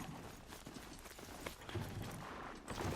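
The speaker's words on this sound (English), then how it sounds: "Look at my horse. My horse is amazing." A horse's hooves clip-clop in the Horizon Zero Dawn video game, a quiet, steady run of hoofbeats with faint mechanical clatter mixed in.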